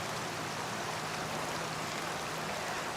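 A river running unusually full after rain flows with a steady, broadband rushing hiss, close and unbroken for a few seconds with no voices.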